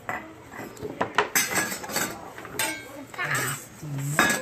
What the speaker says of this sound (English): No, pots. Pots and pans.